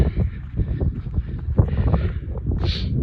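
Gusty winter wind buffets the microphone with a steady low roar and rumble, loud and close throughout, at a freezing carp-fishing spot.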